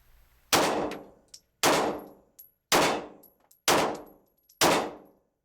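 Five loud, sharp shots from a Glock 19 Gen 4 pistol fitted with Talon grips, fired at an even pace about a second apart, each with a short ringing tail and a faint clink of brass.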